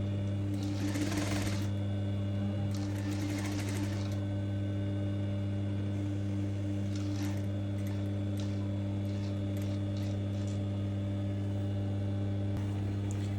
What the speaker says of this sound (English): So now I'm stitching.